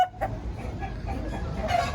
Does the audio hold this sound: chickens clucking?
yes